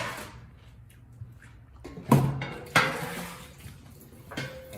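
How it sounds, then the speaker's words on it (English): Pans grabbed and clanking in a home kitchen: several sharp metallic clanks and knocks, close and distinct, separated by quieter rustling handling. "Let's grab some pans."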